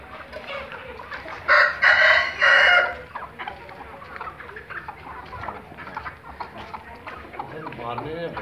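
An Aseel rooster in Jhelum lets out a loud, close crow in two quick bursts early on, followed by people talking over quiet background sounds.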